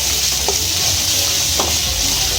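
Spice masala with ground coriander, cumin and salt sizzles steadily in a pan for a Bengali bhangan fish curry, with a couple of brief spatula scrapes as it is stirred; close and continuous, no talking.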